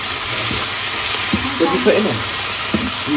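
Spices being stirred and fried in a pan on a home stove, a steady sizzle with scraping spoon strokes and a few soft knocks against the cookware.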